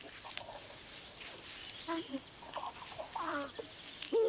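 Crows calling at their nest, a few scattered caws and clucking notes at moderate distance over a quiet outdoor background, growing a bit louder toward the end.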